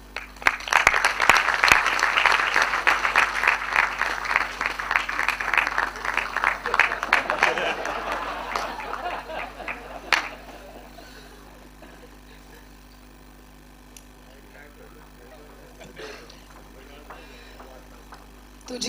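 Audience at a Mumbai music launch breaks into sustained applause, loud and dense at first, then thinning and fading into room murmur and faint voices over the second half.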